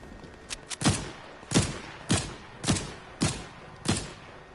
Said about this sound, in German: Ich treffe keinen Schuss da unten.